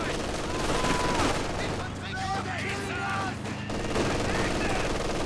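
Machine gun fire in the Company of Heroes 2 strategy game during a 2v2 match, bursts of gunfire and battle noise mixed with a commentator talking over the action.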